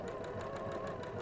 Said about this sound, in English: come off the fabric, turn it, and continue stitching